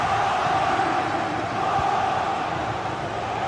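Stadium crowd roaring in a football video game, a continuous loud wash of massed voices and cheering that holds steady without breaks.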